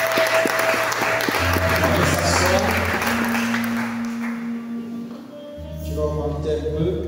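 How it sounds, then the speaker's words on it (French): A church congregation applauding and cheering for Jesus at an evening worship session, loud sustained clapping from a crowd with a steady hum beneath, fading toward the end. "On va acclamer pour Jésus."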